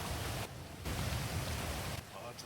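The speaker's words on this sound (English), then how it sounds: "this rain's loud as fuck though" Heavy rain pours down loudly and steadily during a storm, a dense close hiss that briefly thins around the middle and again near the end.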